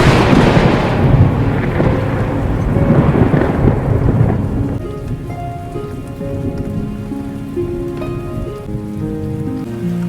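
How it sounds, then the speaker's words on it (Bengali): A heavy thunderstorm with windy gusts and frequent lightning: dense rain pours and thunder rumbles loudly, then the rain eases as a gentle musical tone rises underneath. "যেভাবে হাওয়া দিচ্ছে আর ঘন ঘন বাজ পড়ছে"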